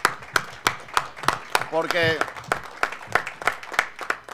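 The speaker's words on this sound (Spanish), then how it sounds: "quiero pedirle a la audiencia que le dé un aplauso a los defensores de derechos humanos que están aquí" Audience applause at a regional human rights session, rendered as sparse, separate claps in a steady rhythm with a short stretch of speech in the middle.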